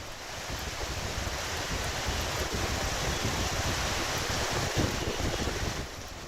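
High waves stirred up by Cyclone Biparjoy batter the Gujarat coast on the Arabian Sea, a dense, continuous roar of surf mixed with gusting wind buffeting the microphone, steady and loud throughout with no voices.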